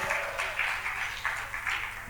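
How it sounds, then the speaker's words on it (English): Audience at a tech summit in Africa breaks into applause, a steady mass of clapping heard from a distance, fairly quiet and even with no voices on top. "Bevi, give them a big round of applause."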